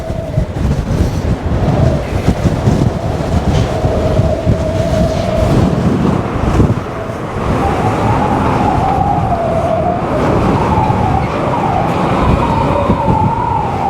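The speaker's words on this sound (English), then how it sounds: "Now the wind is absolutely howling." Wind howls across the open top deck of the MSC Virtuosa cruise ship, a loud, continuous roar with wavering whistling tones rising and falling throughout. No voices are heard.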